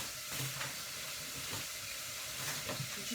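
Ingredients for a spiced lentil soup frying in a pan, a steady soft sizzle and hiss with occasional stirring scrapes, close and continuous with no talk.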